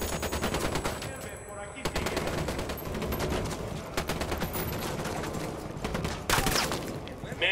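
A squad firing a volley in Ghost Recon Wildlands: dense overlapping gunfire with several loud shots standing out over a continuous rattle and background game noise.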